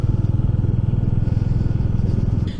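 A motorcycle ridden along a quiet, nearly empty road in monsoon season near Mukutmanipur, its engine throbbing in a steady rapid pulse, loud and close throughout.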